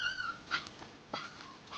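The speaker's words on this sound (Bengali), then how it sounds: "কি কুকুর এগুলো?" A dog gives a few faint, high whimpers and short yips in brief bursts, with quiet ambient noise between them.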